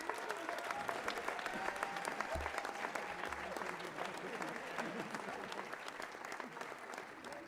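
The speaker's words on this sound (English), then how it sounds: "great applause here for all of the recipients that we just announced." Steady audience applause at a high school athletic awards ceremony, a dense, even patter of many hands heard from a distance, continuing throughout with faint crowd murmur underneath.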